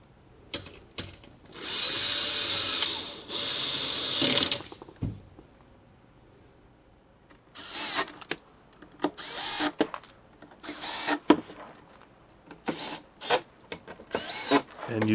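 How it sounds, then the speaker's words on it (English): Cordless screw gun whirring in short bursts while tightening screws on a Ford Focus RS MK3 during an oil change, with longer runs first and then a series of brief, sharp spurts and clicks nearby. "using the screw gun was much faster than the little socket and wrench"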